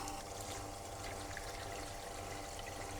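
Pure water pours from a MacRo purification unit into a 1 litre container, a steady quiet trickling stream running without pause.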